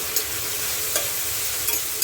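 Something fries in a pan with a pinch of sugar added, giving a dense, even sizzle throughout, with a few faint scraping taps as it is stirred.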